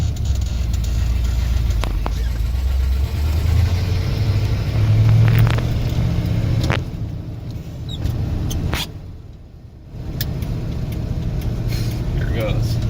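A Ford F250 truck under restoration, on new tires, pulls out of the neighborhood and drives up to road speed. A steady low engine and road rumble builds and dips briefly, with voices talking over it.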